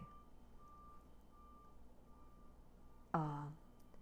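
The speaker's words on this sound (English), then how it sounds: "Somebody's backing up. You hear the beeping?" Faint, steady engine hum with a low tone, then a single loud beep from a reversing vehicle near the end.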